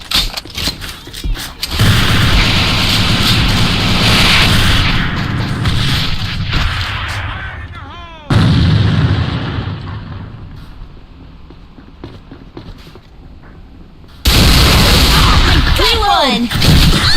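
Grenade explosions in the online shooter AVA during a Demolition match, heavy booms bursting loud and close amid gunfire, with long decaying rumbles and players shouting callouts over the action.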